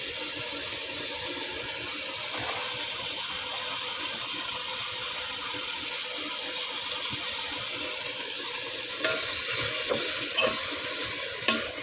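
A baharat spice mix being stirred in a cooking pan for margog, a continuous soft sizzling hiss with scraping stirs, a few louder clinks of the utensil against the pan toward the end.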